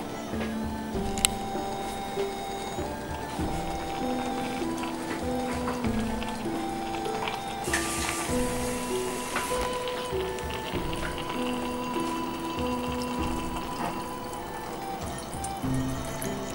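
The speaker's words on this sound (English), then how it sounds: "I will need to add a little bit of water to it so that the water level would be same height as the meat." Water is poured into a pan of ground meat, a continuous trickling and splashing run of liquid that goes on at moderate loudness, with faint clinks and a brief louder gush partway through.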